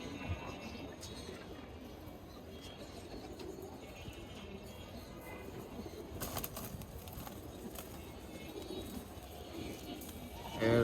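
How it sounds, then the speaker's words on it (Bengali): Pigeons in a loft, soft low cooing and occasional wing flutters, faint and steady under quiet background noise, with a louder close sound at the very end. "কবুতর গুলো অনেক সুন্দর"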